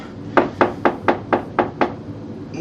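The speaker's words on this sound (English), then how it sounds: "Knock. Who's there?" Seven sharp, evenly spaced knocks on a door ring out close and loud, about four per second, in a quiet room during a reading of Macbeth.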